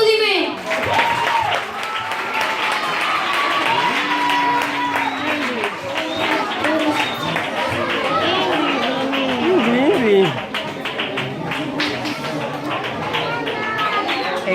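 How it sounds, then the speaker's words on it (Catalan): Clapping and lively chatter from an audience of children and families at a preschool performance for four-year-olds, with children's voices and excited shouts mixed through the clapping. "Un fort aplaudiment!"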